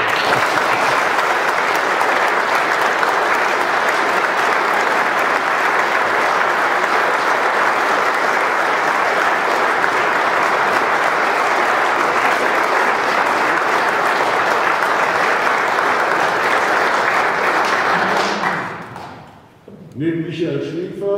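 Sustained, loud applause from a large audience at a German award ceremony, steady for about eighteen seconds before tapering off abruptly near the end.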